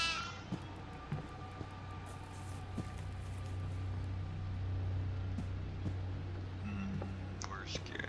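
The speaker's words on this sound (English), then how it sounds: "Here's a goat." A goat bleats in the horror game Devour, a faint drawn-out cry low in the mix beneath whispered voices and steady background hum.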